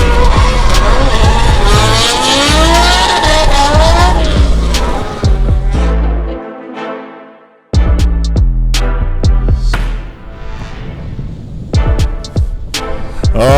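A drift car at Meremere Drift Park roaring loudly on track, the engine rising and falling with revs and tire squeal, then briefly cutting out before surging back with sharp pops and bangs.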